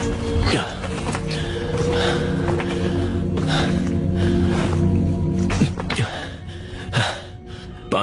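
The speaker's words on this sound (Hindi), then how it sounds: "पानी पी रहा हूं पर प्यास नहीं मिट" A character in an animated movie gulps water, with repeated wet swallows, gasps and snorting breaths close up, set against background score.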